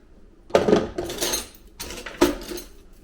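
Four small metal mini whisks are handled and knocked together, giving a few close clinking and rattling bursts separated by quiet gaps.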